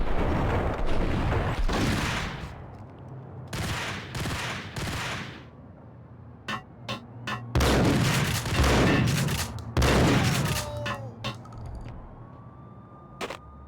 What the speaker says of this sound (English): There's someone below firing at us too?